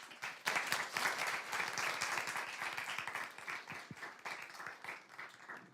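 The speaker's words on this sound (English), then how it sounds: "Let's give everyone a round of applause." A crowd at a women's inspirational get-together event applauds for several seconds, dense clapping rising quickly and holding steady before thinning slightly near the end.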